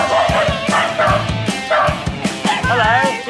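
Three schnauzers barking and yipping together in a home, loud and close, with rapid overlapping yaps and a whimper near the end, while people talk over them.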